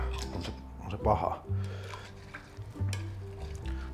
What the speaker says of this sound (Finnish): Ja sitten vispilällä sekoittelee sitä.